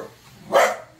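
A single dog bark rings out in rainy outdoor surroundings, sharp and fairly close, against quiet background noise.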